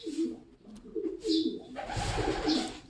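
Pigeon cooing close by, several soft throaty coos in a quick rhythmic run followed by a breathy rustling flutter, no talk.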